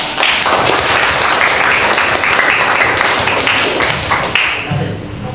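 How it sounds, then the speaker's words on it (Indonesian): Classroom audience applauding a presenting student group at an Islamic education teacher-training session, with steady, dense clapping filling the whole stretch before it thins out at the end. "Kita beri aplaus untuk kelompok"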